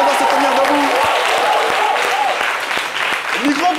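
An audience applauds as an association's president is welcomed, a dense steady clapping throughout with voices talking over it.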